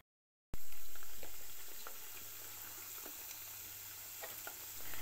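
Peanuts sizzle and crackle steadily as they fry in oil, with intermittent stirring scrapes; close, moderately quiet, no voices.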